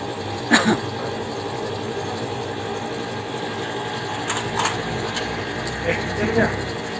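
Transformer oil filter machine running with its vacuum system, a steady mechanical drone with occasional clanks and hisses while people talk nearby.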